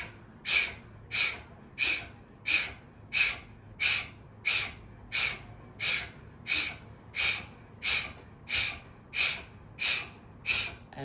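Forceful breaths during a breathwork exercise, about fifteen sharp, evenly spaced bursts of air at a quick steady rhythm, close and alone with no talking.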